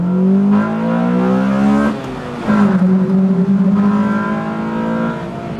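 A Honda EK9 Civic Type R, restored from scrapyard condition, accelerates hard from inside: the engine note climbs steadily, drops at a gear change around two seconds, then rises and revs on again.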